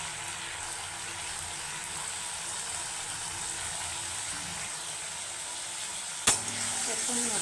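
Chili, turmeric and cumin powder masala sizzling steadily in a hot pan, a continuous close crackling hiss with a brief sharp knock near the end.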